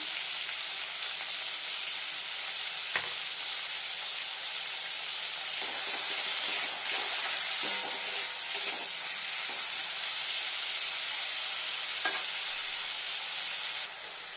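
Tomatoes fry in a pan for a vegetarian potol, potato and poppy-seed dish, giving a steady close sizzle with occasional stirring scrapes and no talking.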